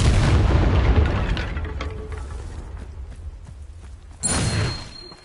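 A Confringo fire spell explodes in the Hogwarts Legacy video game as a heavy, rumbling boom that fades slowly over several seconds. A second sharper blast bursts in near the end.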